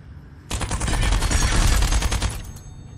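A chain gun fires a sustained rapid burst of loud, close mechanical shots in the VR shooter Gunheart, lasting about two seconds before cutting off.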